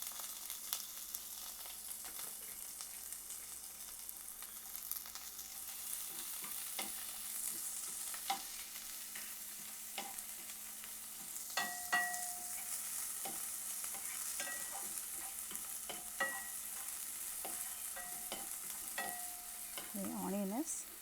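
Chopped onion sizzles steadily in a pan for a chicken clear soup, with a constant frying hiss and intermittent scraping clicks as it is stirred, ending in a brief clatter.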